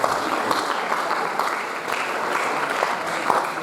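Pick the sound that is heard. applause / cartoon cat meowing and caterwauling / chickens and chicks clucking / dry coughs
applause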